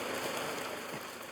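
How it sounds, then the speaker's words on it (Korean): Steady rain pattering down on an army infantry school march, a continuous dense hiss with no talk, holding an even level throughout. "가을을 재촉하는 비가 내리던 날"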